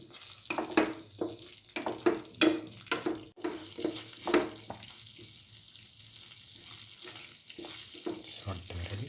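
Potato and coconut stir fry is sautéed in a pan, with a soft sizzle and a run of irregular scraping, stirring strokes that thin out into a steadier faint frying hiss.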